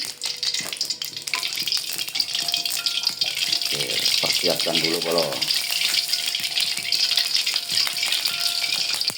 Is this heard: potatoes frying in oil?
yes